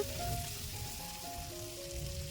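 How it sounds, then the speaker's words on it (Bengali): Taro root pieces are frying in hot oil, a faint, steady sizzle and crackle that keeps on throughout without a voice. "কচুগুলো ওই তেলের মধ্যে একটু নাড়াচাড়া করে নিচ্ছি একটু কচুগুলো এর মধ্যে একটু ভাজা ভাজা করে নিচ্ছি হালকা"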